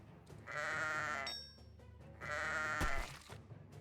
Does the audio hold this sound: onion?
no